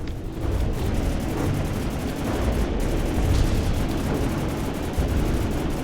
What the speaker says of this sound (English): Yep, there's its missiles.